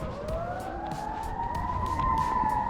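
A police car siren wails from a distance, its rising and falling tone carrying across a snowy winter park in Aurora, Illinois, steady and moderately faint with no talk over it.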